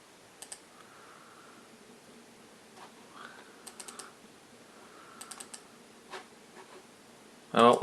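Soft, sparse clicks of a computer mouse during data-recovery work at a desk, scattered in small clusters over a quiet room hum, ending with a louder, brief burst of handling noise.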